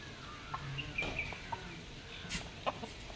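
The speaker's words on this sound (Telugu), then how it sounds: "చాలా కోళ్ళు ఉన్నాయి. ఇవన్నీ నాటుకోళ్ళు అన్నమాట." Native country chickens in a village yard give scattered, fairly faint clucks and short calls over a low outdoor background.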